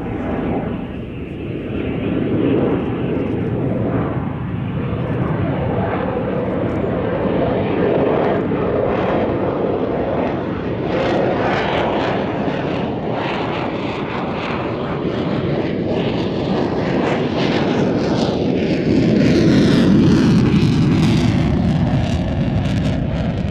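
At the Cosford Airshow 2024, a jet flies a slow, nose-high, high angle of attack pass, its sustained engine roar swelling and shifting in pitch as it moves past, with wind buffeting the microphone.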